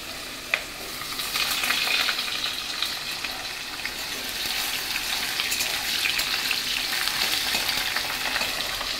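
Thinly sliced potatoes fry in a generous amount of oil with a dense, constant sizzle that swells slightly, heard close with faint stirring clicks and no voices.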